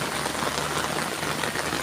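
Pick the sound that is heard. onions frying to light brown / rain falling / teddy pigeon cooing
rain falling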